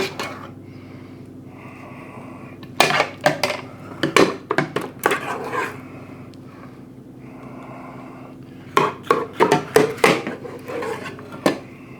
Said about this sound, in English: See, I'm using a metal ladle in there